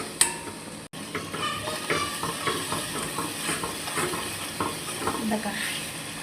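A spoon stirs strawberry chutney with added sugar in a pan, scraping and sizzling steadily with soft clinks against the metal.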